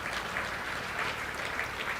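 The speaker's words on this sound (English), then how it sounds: "We can clap for that." A crowd applauds steadily, a dense wash of many hands clapping at a moderate distance throughout.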